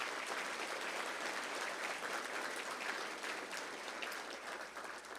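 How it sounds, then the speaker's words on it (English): A large crowd at a city State of the City address applauds the Santa Ana Police Department, a dense, even roar of clapping that holds steady throughout, fairly distant and soft. "let's give them a round of applause"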